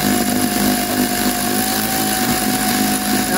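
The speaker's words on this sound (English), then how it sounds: "Now I got the battery operated drill or a 3/8 ratchet." A battery-powered drill runs steadily, backing out the seat fasteners in a 1982 Mercedes 300SD; it is a continuous, loud whine at close range with no pauses.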